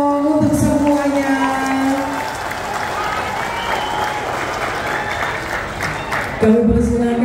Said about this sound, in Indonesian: Kasih tepuk tangan dulu dong untuk semuanya.